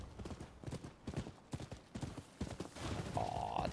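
Horse hooves clip-clopping in the Rise of the Ronin video game, a quick uneven run of close, hollow thuds, followed by a brief whinny-like tone near the end.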